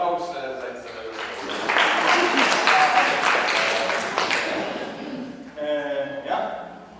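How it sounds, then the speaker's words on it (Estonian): Audience applause at a seniors' festival in Võru County, a crowd clapping warmly for a few seconds, swelling and then fading, with voices talking over it before and after. "Tehke endale suur aplaus"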